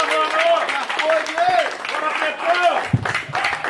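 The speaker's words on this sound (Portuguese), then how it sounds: "Palmas aí para o nosso artista" Applause greets an artist at an exhibition opening. Steady clapping runs under excited voices and cheering from the crowd throughout.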